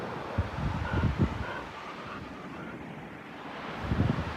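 Wind buffets a microphone on a Greek beach, with low rumbling gusts and the wash of surf rolling in, steady and fairly close, no voices.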